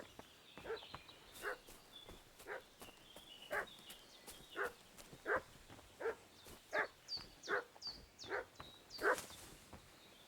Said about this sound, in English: Hold on, why that dog barking?